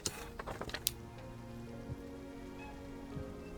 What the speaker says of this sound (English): the sound of rain falling heavily on the rooftops